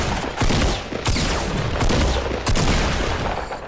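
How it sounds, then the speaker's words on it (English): Dense gunfire from the Fortnite video game, with rapid overlapping shots in loud bursts that fill nearly the whole stretch and only brief dips between volleys. "someone's shooting at me"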